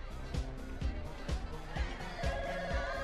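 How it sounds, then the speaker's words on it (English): A home telephone bell rings in repeated sharp bursts, fairly close, with a faint low hum beneath. "Phone."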